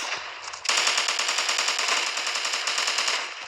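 Rapid automatic gunfire in a Roblox capture-the-flag shooter game, a sustained burst of evenly spaced shots starting abruptly and continuing loudly for about three seconds without speech.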